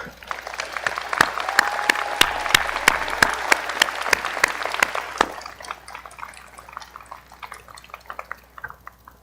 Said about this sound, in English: why don't we give all of these people a hearty round of applause right now